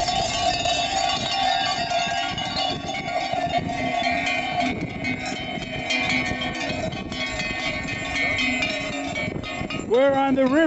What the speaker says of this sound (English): we've run into this caravan, mule caravan